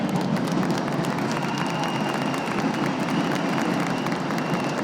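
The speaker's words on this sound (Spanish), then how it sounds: "solicitándoles un enorme y fuerte aplauso para nuestra maestra de ceremonias" Large auditorium audience applauding steadily for a female master of ceremonies at a national good-habits event in Riobamba, a dense, sustained wash of clapping throughout with faint crowd murmur.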